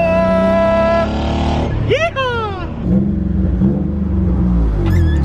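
A Nissan 350Z engine idles roughly, then revs up sharply with a rising whine before settling back into a rumbling drone.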